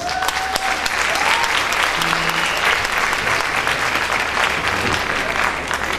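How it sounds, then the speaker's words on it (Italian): Warm applause from a concert audience at a music venue in Florence, steady dense clapping filling the whole stretch close and loud, with faint voices mixed in. "Intanto fate sentire un caloroso applauso a Samuele, che è veramente bravo."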